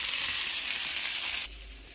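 Tomatoes browning in a pan for a beef tripe menudo soup, a steady broadband sizzle that holds loud and even, then drops abruptly to a quieter hiss near the end.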